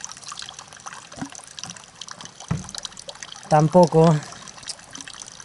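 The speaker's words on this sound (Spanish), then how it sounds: "Voy a rellenar, aunque sea la mitad, hacer una isotónica decente." Water pours into a bottle while an isotonic sports drink is mixed, a short gurgling fill of about half a second after scattered handling noises, with someone speaking Spanish just before.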